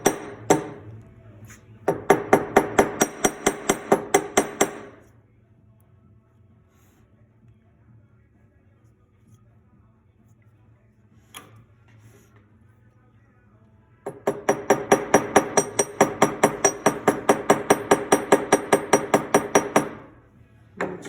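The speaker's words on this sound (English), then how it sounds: "I'm just going to go with the flat-headed hammer and spread it out." A flat-headed hammer strikes a metal jewellery hinge to spread it, heard as two bursts of rapid, evenly spaced metallic taps, loud and close, separated by a quiet pause with one isolated knock.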